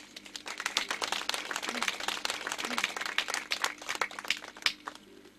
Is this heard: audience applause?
yes